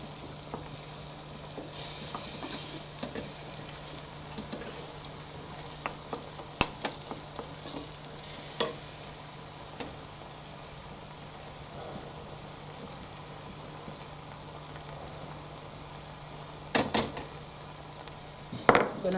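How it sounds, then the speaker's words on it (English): Vegetables with mushrooms sautéing in a pan with half a teaspoon of oil in a school kitchen, a soft continuous sizzle with occasional clicks and knocks of a utensil and pan, quiet and close. "Half a teaspoon of oil, not a lot. And I'm just going to saute my veg."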